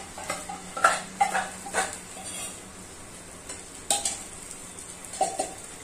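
Ground coconut-and-onion masala is stirred into a pan for a mushroom gravy, with scattered spoon scrapes and knocks over a faint, steady sizzle, close and fairly quiet.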